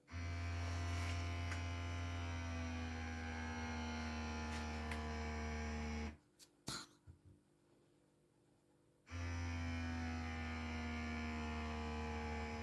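The electric vacuum pump of a cupping massager runs at level 10, a steady close electric buzz with a mains-like hum that cuts out for about three seconds before resuming.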